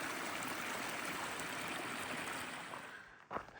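A small stream flows through the bush, a steady close burble and rush of water that eases slightly near the end, with a brief bump.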